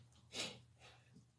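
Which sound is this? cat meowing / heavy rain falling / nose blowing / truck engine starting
nose blowing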